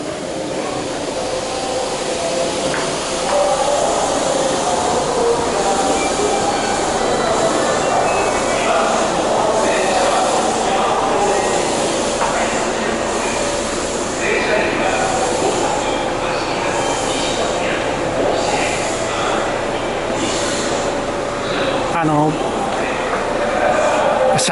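A Kintetsu rapid express train bound for Kintetsu Nara rumbles along steadily with rail clatter and occasional wheel squeal, loud and close, as if heard from inside a carriage.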